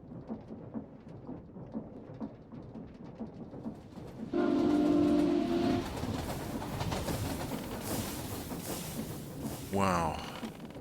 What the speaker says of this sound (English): getting 4 trains running